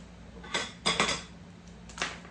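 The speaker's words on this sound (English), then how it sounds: "Now I'm going to grab my funnel" Glass canning jars and a metal funnel clink and clatter on a counter during peach canning, with a few sharp bright knocks in quick succession and one more after a pause.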